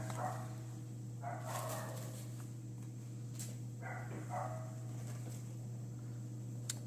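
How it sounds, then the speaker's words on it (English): A dog next door barks in short bursts, two clusters of muffled barks heard at a distance over a constant low electrical hum. "Sorry about the dog barking next door."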